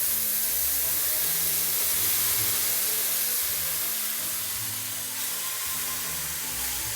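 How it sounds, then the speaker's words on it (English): Half a can of diced tomatoes hits a very hot pan, giving a loud, steady sizzle and hiss that fills the whole stretch, close up and with no voices. "we're going to temper the pan a little bit by adding half a can of tomatoes"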